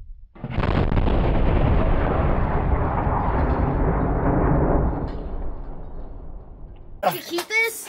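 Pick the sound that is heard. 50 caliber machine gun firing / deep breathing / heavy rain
50 caliber machine gun firing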